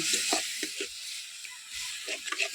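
Chicken feet masala frying in a pan, sizzling steadily throughout with soft stirring scrapes and bursts, fairly close and moderately quiet.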